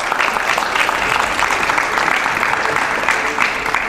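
A studio audience at a TV news event claps steadily, a loud, dense, continuous wash of applause lasting the whole stretch with no voices over it.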